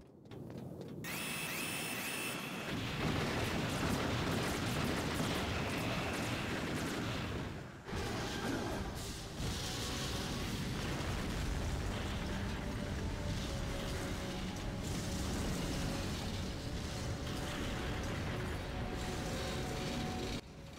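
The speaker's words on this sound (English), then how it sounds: "I bet Barack wishes he shot that explosion there" Explosion in the video game Metal Gear Solid, a long roaring rumble with crackling debris that stays loud and dense, dips briefly, then rolls on without speech.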